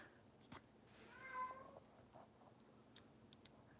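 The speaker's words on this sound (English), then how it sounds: "You guys can hear the cat, I'm sure." Domestic cat meowing indoors, one drawn-out mid-volume meow followed by a softer short call, heard alone over quiet room background.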